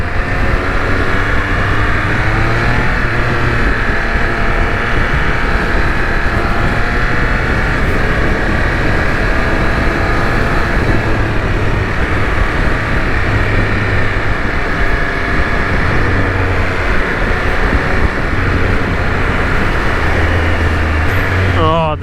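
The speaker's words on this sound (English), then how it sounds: "Oh, the downshifter, the blipper," Triumph motorcycle engine running hard and downshifting with an auto-blipper, its tone rising and falling in quick stepped changes over a constant roar of road and wind noise, close and loud throughout.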